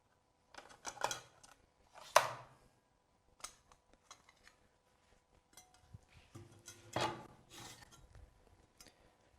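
A Festool Panther saw blade for an HK 55 or HK 85 pivoting-hood circular saw is handled, giving sparse metallic clinks, scrapes and light rattles in short bursts against near silence.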